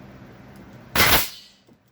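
A nail gun fires a nail into a wooden stud during building-skills safety training, giving one sharp, loud pneumatic bang that fades quickly against a quiet background.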